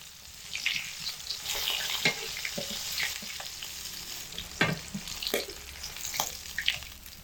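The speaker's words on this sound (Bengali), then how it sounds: "সবকটা মাছ ভাজা হয়ে গেছে। মাছগুলোকে তুলে নিচ্ছি।" Fish pieces frying in hot oil, a continuous close sizzle broken by scraping and clinking knocks as the pieces are turned and lifted out with a utensil, with no voices.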